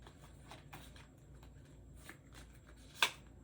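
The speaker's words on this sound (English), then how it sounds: "Pull some more cards." Tarot cards are shuffled and pulled in a quiet room, a run of soft riffling flicks ending in one sharp snap of a card near the end.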